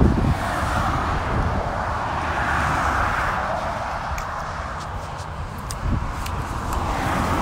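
Car cruising down a motorway for a 120-mile drive toward Utrecht in the Netherlands, a steady broadband road roar with wind buffeting throughout, continuous and fairly loud, with no talk.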